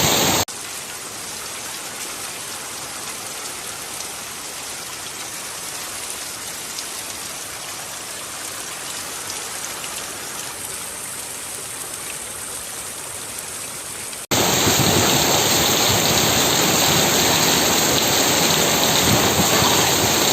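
Steady broadband rain falls during a Gujarat downpour, a dense even hiss that jumps abruptly louder and brighter near the end, with no voices.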